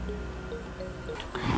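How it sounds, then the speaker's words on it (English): Melted chocolate mixture poured into an egg mixture in a home kitchen, a soft wet dribbling and squishing flow, close and fairly quiet, with a thicker glop at the end. "I'm going to take my beautiful chocolate mixture and just pour that"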